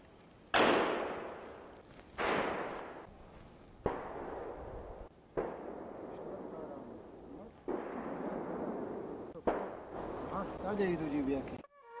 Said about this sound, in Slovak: Zazneli prvé výstrely.